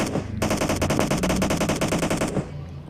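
A rapid automatic weapon fires in PUBG Mobile gameplay, one loud, tightly spaced burst of shots lasting about two seconds before cutting off.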